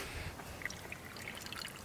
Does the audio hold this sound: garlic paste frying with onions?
no